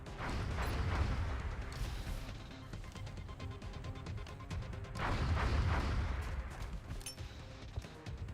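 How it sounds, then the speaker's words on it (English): Grenade blasts in the turn-based strategy game XCOM Long War, two big booming bursts about four seconds apart, each followed by a rumbling crackling tail, loud and close with no talking. "Throwing grenades."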